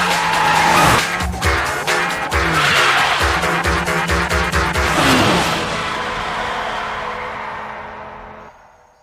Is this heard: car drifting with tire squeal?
yes